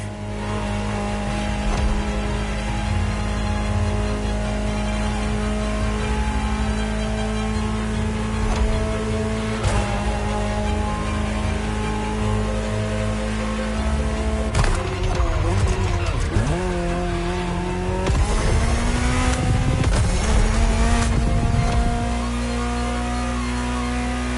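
Ferrari supercar from around the 1984 Geneva Motor Show era, its engine droning steadily while driving, then revving hard and changing pitch through gear shifts near the end, loud and close with no talk.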